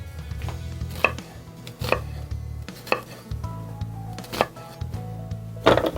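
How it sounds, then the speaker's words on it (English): A knife chops onions into chunks on a cutting board, sharp distinct thunks coming in an uneven rhythm, close and clear, with faint rustling of the pieces between strikes. "We're going to cut up enough onions to fill up my processor."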